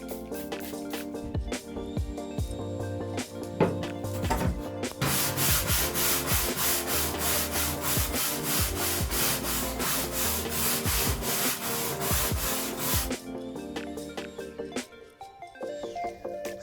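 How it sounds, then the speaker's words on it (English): A wire brush scrubs rust on the metal interior of a 2002 Ford E350 van, making rhythmic rasping strokes up close that swell into a dense, vigorous scrubbing burst in the middle before easing off. "I'm going to spritz it lightly and hit it with a wire brush."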